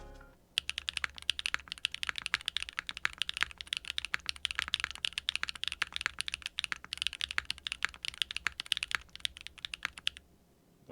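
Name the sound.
typing on custom 60% keyboard, HMX Purple Dawn switches, GMK Expo keycaps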